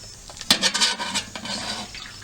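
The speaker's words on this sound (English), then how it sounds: "Squeezing the rest of the water out of there." Homebrew grains being squeezed by hand to wring out the remaining sparge water: a wet, sloshing squish with a burst of splashing and dribbling, fairly close.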